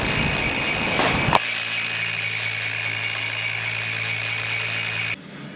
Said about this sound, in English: we're gonna rough sand this with 60-80 grit, get the big stuff down